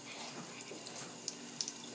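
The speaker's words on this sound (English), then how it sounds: "The cat drinking from the faucet." A household faucet runs as a cat drinks from the stream, a faint steady trickle and splash of water into a sink with a few small, sharper drips and laps near the end.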